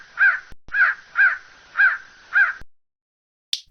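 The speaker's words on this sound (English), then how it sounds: "crow." A crow gives five loud, harsh caws in an even rhythm, close and alone, then falls silent before a short click.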